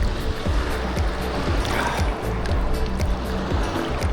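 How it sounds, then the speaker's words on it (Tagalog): Heavy water churning and washing continuously, strong surf close by on a Boracay beach, loud and steady throughout. "Dito malakas yung alon."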